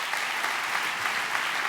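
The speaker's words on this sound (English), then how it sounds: "Can we please give a big round of applause for Hasani Pettiford?" An event audience gives a steady, full round of applause for a speaker at a forgiveness-themed talk, dense even clapping filling the room without a break.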